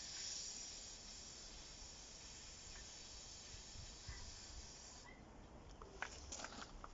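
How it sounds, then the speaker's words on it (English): Propane gas hisses steadily out of a small plumber's TTP bottle valve as pressure is released, a continuous broad airy hiss, soft and close, fading slightly near the end with a few small clicks. "You're going to get a little bit of gas escape, obviously, from it"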